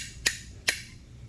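Two sharp, bright metallic taps land about half a second apart as a piece of brass strikes the bolts of a big block Chevy connecting rod, close and isolated against a quiet room.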